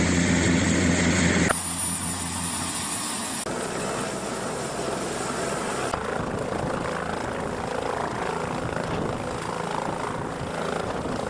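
A helicopter carrying election staff from Doda to polling stations, its engine and rotor roaring as a steady broadband drone that is loudest at the start, then continues at a lower, even level.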